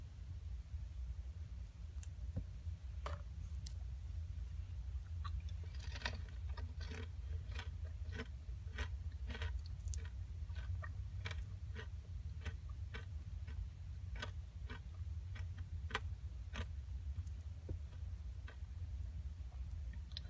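Cracker Jack caramel-coated popcorn and peanuts crunched up close, a run of crisp, sharp crunches that quickens midway, over a steady low hum.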